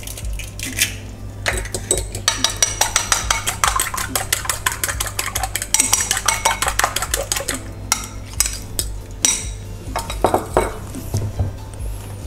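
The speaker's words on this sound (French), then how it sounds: "je vais intégrer mon cinquième œuf" A fifth egg worked into choux pastry dough for chocolate and coffee éclairs: a steady run of close scraping and clinking of a utensil against a bowl in quick strokes, with short pauses and no voices.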